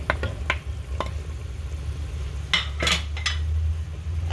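Diced potatoes drop into a pot of pumpkin stew with a few soft clinks and stirring scrapes, then a couple of louder clatters of utensil against the pot over a faint simmer.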